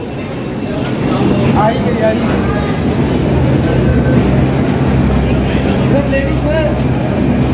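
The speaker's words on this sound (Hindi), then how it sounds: "ये मेट्रो आ चुकी है हमारी" A loud, continuous rumble of a metro train pulling into Jama Masjid station, with faint squeals of brakes and voices mixed into the din.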